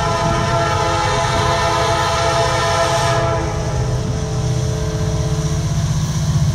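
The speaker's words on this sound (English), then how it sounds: "we got a train meet." Two Norfolk Southern intermodal freight trains meeting at Taylors, South Carolina: a loud, close, continuous rumble of rolling wagons, with a sustained train horn sounding over it for the first half.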